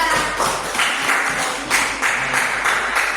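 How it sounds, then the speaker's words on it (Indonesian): A classroom of students applauds a presenting group during a micro-teaching lesson, a steady, fairly loud patter of many hands clapping together, with little talk. "Beri tepuk tangan untuk kelompok 2."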